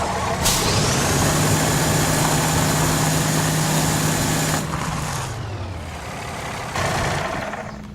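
A car engine in the Arma 3 combat game rumbles loud and close with a steady droning hum, then fades and shifts pitch as it passes. No one talks over it.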